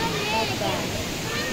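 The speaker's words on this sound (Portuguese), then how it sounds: "a cachoeira aqui como é" A waterfall at Pé de Serra pours with a loud, continuous broadband rush heard up close, with a voice talking over the steady roar.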